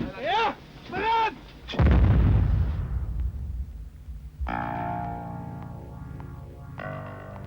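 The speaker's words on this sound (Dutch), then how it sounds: "Om deze galerijen aan te leggen gebruikt men speciale explosieven." Blasting with special explosives to drive galleries in a Limburg coal mine: a couple of sharp bursts, then one loud, heavy boom that rumbles and decays over several seconds, followed by a steady mechanical drone.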